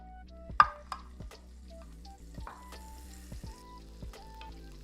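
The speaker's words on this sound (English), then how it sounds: "So we're letting the olive oil and the butter come together" Olive oil and unsalted butter heating together in a pan for a one-pan breakfast give a faint, gentle sizzle, broken by a few sharp taps and clinks of a utensil.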